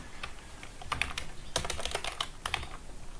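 Code is typed on a computer keyboard in quick irregular bursts of close, crisp key clicks with short pauses between runs.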